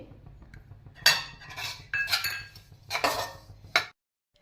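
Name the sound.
stirring split mustard seeds and nigella seeds in a pan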